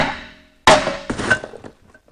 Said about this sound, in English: Now the rotor, like I said, it's stuck on there because it's been there for a while. Smack it with a hammer.